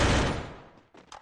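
A heavy burst of video game gunfire roars and decays, followed by a couple of quicker, lighter shots near the end.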